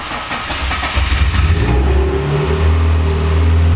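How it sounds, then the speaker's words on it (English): A 2004-2007 Subaru STI engine runs indoors in a shop after a jump start, a loud, steady idle with a deep throbbing rumble and a slight rise in revs partway through. "So we got the car running now"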